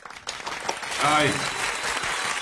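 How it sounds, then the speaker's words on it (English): A studio audience applauds and cheers to welcome two guests onto a live talk show, a dense sustained wash of clapping that swells mid-clip, with a brief spoken greeting near the start. "a round of applause. A big crowd."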